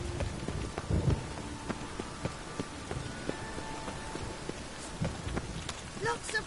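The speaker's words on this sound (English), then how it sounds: "Lots of fuss over lots of rain." Steady rain pours through a village scene in The Witcher 3, a dense hiss with scattered drip-like ticks and a few soft thuds, muffled voices faintly underneath.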